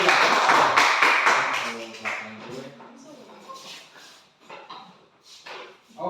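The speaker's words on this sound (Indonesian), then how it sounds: "Tepuk tangan semuanya" Children in an elementary school classroom clap in a short burst of brisk applause, which quickly gives way to voices talking nearby.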